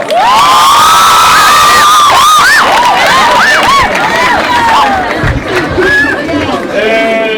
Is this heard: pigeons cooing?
no